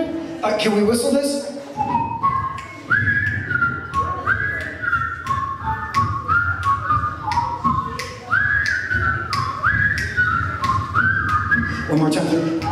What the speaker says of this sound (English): Can we whistle this?